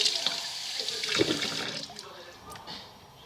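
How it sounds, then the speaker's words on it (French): Hands being rinsed under a running tap at a sink, a close splashing gush of water that tapers off after a couple of seconds. "Ensuite, le truc, c'est de rincer les mains."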